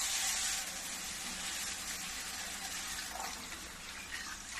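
Liquid pouring steadily from a jar into a kadhai while a spoon stirs, making a continuous wet, splashing rush that stays even throughout with no talking.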